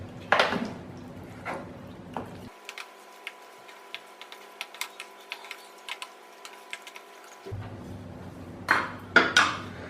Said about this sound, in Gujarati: બધી જ સામગ્રીને સારી રીતે મિક્સ કરી લઈશું